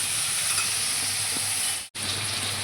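Onion and tomato roasting in a pan, a steady close sizzle and frying hiss that runs without a break except for one very short gap near the end.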